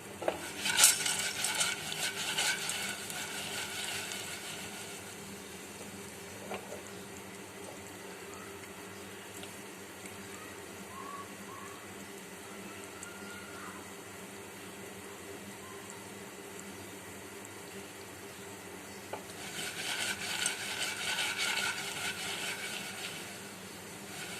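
Popcorn kernels stirred in a pot on a stovetop, giving bursts of dry rattling and scraping near the start and again toward the end, with a quieter stretch of faint clinking in between.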